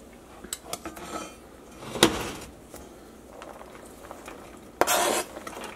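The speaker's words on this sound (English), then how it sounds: "I'm going to put the onion in the Dutch oven." Chopped onion tipped into a Dutch oven for vegan chili, heard as a couple of brief clattering scrapes and clinks of utensil against pot amid quieter kitchen rustling, with no voices.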